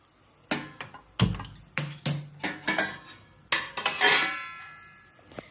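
Metal pots and pans clink and clatter in a home kitchen as milk is set to heat, a series of separate sharp knocks and scrapes followed by a longer ringing scrape, with no talk.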